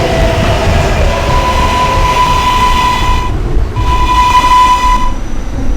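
An R143 subway train in the PTA Subway video game runs with a constant loud rumble and steady electric whine, a brief dip in tone midway before the motor hum resumes.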